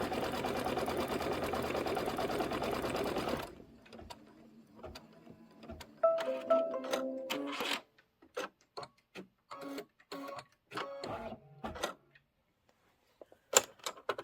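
An embroidery sewing machine stitches a quilting design with a dense, fast run of close needle clatter that gives way to sparse, irregular stitch taps and short bursts separated by pauses.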